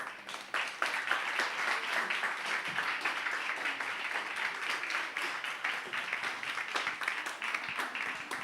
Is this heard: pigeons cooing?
no